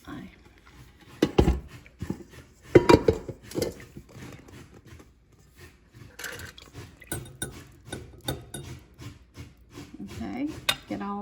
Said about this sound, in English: I'm just going to add them to my bowl here